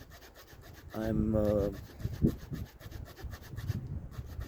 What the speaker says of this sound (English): just casually sawing off this little branch